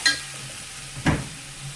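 Chopped spinach stems and carrot hitting hot spiced oil in a pan: a soft background sizzle with a short scraping stir near the start and another louder stir burst midway, close by and without voices.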